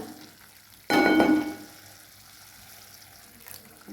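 A brief splash of water is poured into a pan of spicy rice-papad curry, then a soft, quiet simmer continues.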